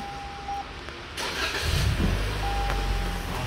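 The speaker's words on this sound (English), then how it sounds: "I'm gonna turn on the whole vehicle." A 2021 Toyota Camry engine starting, the cranking rising into a steady low idle rumble that carries to the end, with a faint electronic tone heard at the beginning and end.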